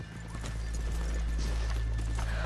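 Steady clip-clop of horse hooves in Red Dead Redemption 2 over a constant low hum and faint background music, no talking.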